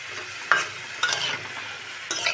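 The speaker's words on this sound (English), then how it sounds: "Now I'm just stirring the cauliflower." Cauliflower pieces sizzle in a pan over a medium flame, and three distinct stirring scrapes and clatters cut through the constant frying hiss, close and fairly loud.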